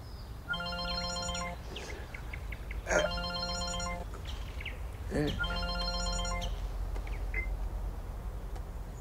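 A telephone rings in a repeated pattern of three bursts, each about a second or more, steady and fairly clear against a low background hum, with a brief voice sound between rings.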